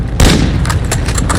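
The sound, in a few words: airstrike explosions and gunfire in a video game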